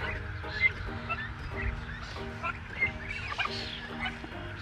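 Turkeys and guinea fowl calling in a backyard pen, a busy stream of clucks and squawky calls near and at moderate loudness, sounding over a low hum of steady background noise.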